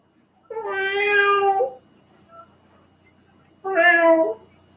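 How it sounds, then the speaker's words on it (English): A cat gives two long, loud, close meows, each about a second long, with a short quiet gap between them and a faint small sound in the middle. "These are just great meows."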